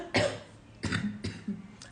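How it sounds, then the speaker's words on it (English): A person getting over a cough gives several short, rough coughs and throat-clearing bursts in quick succession, close and fairly loud, with brief quiet gaps between them. "Getting over a cough."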